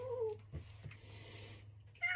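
A cat meows alone, with a couple of drawn-out calls at the start and another at the end, fairly close, over a low steady hum in the room.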